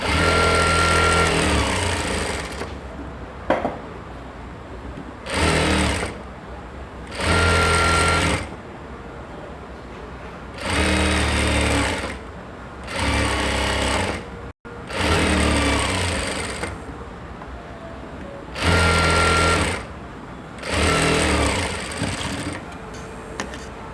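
A sewing machine stitches the layers of a three-layered ruffled lehenga skirt in repeated loud bursts of steady whirring, each run lasting a second or two and separated by short pauses, close by with no talking.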